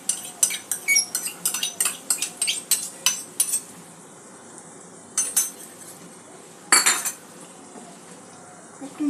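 A spoon stirring whipped sour yogurt into a cooked spice paste for a Bengali jackfruit curry, a rapid run of close metallic clinks and scrapes against the pot, then pauses broken by a few louder isolated knocks.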